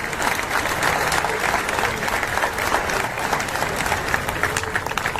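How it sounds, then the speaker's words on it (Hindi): Sustained audience applause fills a hall at an Indian railway division award ceremony, steady and fairly loud throughout with no break. "आप इनके लिए ताली तब तक बजाइए जब तक आप रुक ना सके।"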